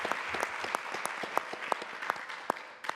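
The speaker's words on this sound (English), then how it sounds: "Let's give a round of applause for them for all their hard work." Audience applause for organizers at a climate justice summit, a dense crowd clapping with scattered sharper claps standing out, steady and moderately quiet, heard alone without talk.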